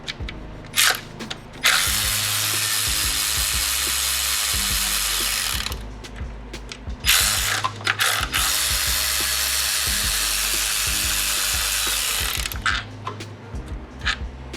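A ratchet works on a bracket bolt on the intake of a 2008 Ford Taurus, with two long, loud stretches of rapid buzzing clicks separated by brief pauses and scattered clanks.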